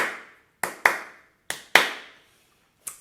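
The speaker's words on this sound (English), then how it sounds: "You could clap your hands." A single person clapping hands in a slow, uneven pattern, about six crisp, close claps with short ringing tails and silence in between.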